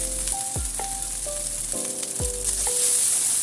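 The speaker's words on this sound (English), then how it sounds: "Then stir fry" Chicken strips stir frying in a pan give a soft, even sizzle, with a few short tonal clinks and bumps from the spatula and chopstick, close but quiet.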